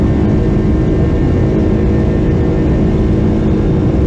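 Loud, steady engine roar heard from inside an aircraft cabin, a dense low rumble with a constant whir that holds without a break and with no talking.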